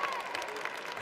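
A partisan hometown crowd applauds and cheers at a strongman team rock lift event as a veteran athlete presses a 90-kilogram boulder; dense, steady clapping fills the space without a break.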